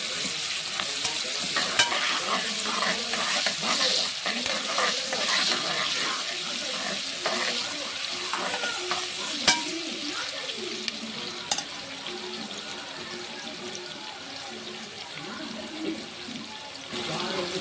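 Onions frying in oil with ghee for prawn biryani give a steady, close sizzle with scattered crackles and stirring clinks, while a voice talks over it.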